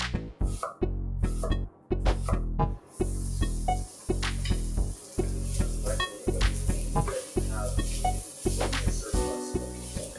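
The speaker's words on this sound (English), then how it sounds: "And in that butter, we can saute a diced onion." Diced onion sautés in butter in a large pan, with a loud, close sizzle and hiss that keeps coming in repeated bursts, along with a low rhythmic thumping, and no talking.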